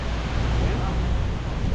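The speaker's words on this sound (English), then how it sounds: "It's a little bit windy." Strong wind buffeting the microphone, a loud continuous rumbling roar with no clear breaks.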